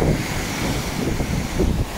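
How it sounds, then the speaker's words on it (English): Big sea waves crashing and splashing against North Denes Promenade in Lowestoft during a gale, a continuous loud roar of surf and gusting wind buffeting the microphone throughout, with no voices. "Every now and again we get a big wave and it makes a bit of a splash"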